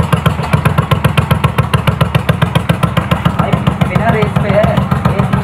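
A modified Hero Splendor motorcycle with an aftermarket silencer idles just after a cold start, its exhaust beating in a steady, loud, rapid thumping rhythm close by.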